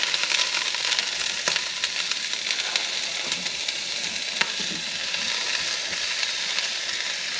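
Broccoli and peppers fry for beef lo mein in a deep-sided pan, giving a steady close sizzle with sharp crackles and pops, and no voices.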